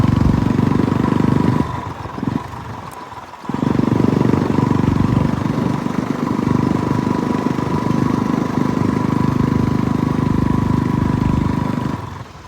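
A motorcycle engine runs in Mustang, idling loud and close with a steady, throbbing low rumble and mechanical clatter, briefly dipping and cutting out for a moment before picking back up and droning on steadily.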